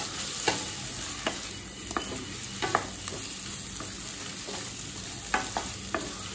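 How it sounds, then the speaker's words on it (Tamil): Fried yam pieces being mixed into oily masala in a pan for a wedding-style senai kizhangu varuval, with a steady soft sizzle and periodic spatula scrapes and taps, no voices. "நல்லா மிக்ஸ் பண்ணிக்கலாம்."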